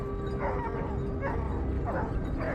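A hunting dog driving wild boar gives a series of yipping barks and whimpers, four or five bursts at moderate distance over a steady outdoor background.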